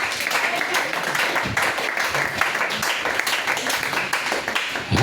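A church congregation at a worship service applauds to acclaim Jesus Christ, a dense, sustained wash of clapping from many hands filling the room.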